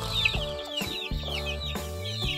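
Hens cluck close by in a coop with chicks, giving a busy run of overlapping low clucks and higher chirps with no talk.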